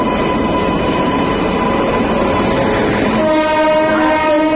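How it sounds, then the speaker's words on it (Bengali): Rajdhani Express pulling into Malda station on Indian Railways, a loud steady rumble of the moving train that gives way to a sustained, ringing train horn in the last second or so. "আমার মনে হয় ট্রেন এসে গেছে এবং আজকের এই রাজধানী এক্সপ্রেস"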